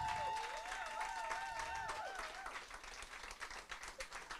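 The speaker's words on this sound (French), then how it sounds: "Faites un tonnerre d'applaudissements pour elle." An audience at a Paris visibility summit bursts into steady, dense applause that carries on for several seconds, with a thin wavering whistle-like tone in the first half.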